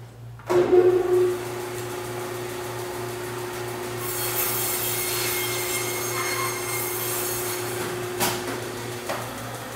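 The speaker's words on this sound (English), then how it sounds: "I'm just gonna take it over to the bandsaw and split it in half along the spine." A bandsaw splits a leg of lamb lengthwise along the spine, a steady motor drone under a sustained, brighter rasping cut through bone and meat that runs for several seconds, fairly close and alone without talk.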